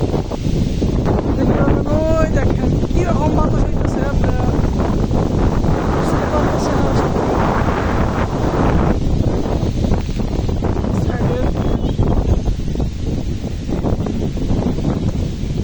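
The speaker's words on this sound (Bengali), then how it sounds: "অনেক বাতাস এবং কি দেন নদীর এটা দেন" Strong wind buffets the microphone in a continuous roar on the bank of the Kaliganga River, with rushing water and a voice talking underneath.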